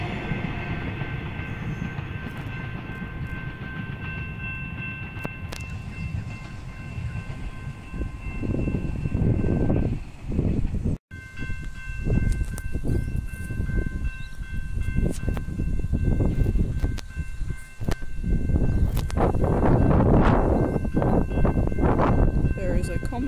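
A metro train rumbles loudly past at close range, with a high tonal horn sounding early on, as heavy wheel and track noise builds and continues to the end.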